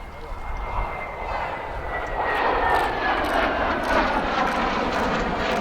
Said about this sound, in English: just bringing the aircraft back in now